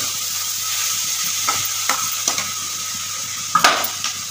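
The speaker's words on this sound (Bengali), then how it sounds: "এই নুনটা দিয়ে এবার একটু নেড়ে দিবে" Stirring of a long bean stir-fry in a pan just after salt goes in, a low steady sizzle with a few soft scraping strokes of a spatula and a louder clatter near the end, no talking.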